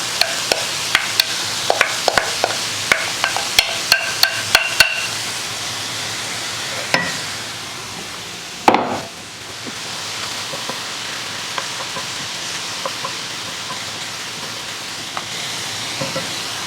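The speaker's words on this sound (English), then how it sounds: "adding 4 ounces of mushrooms" Four ounces of mushrooms added to a hot pan of venison breakfast set off a steady sizzle and hiss, with a run of clicking taps early, a louder clatter midway, then continuous frying, close and moderately loud.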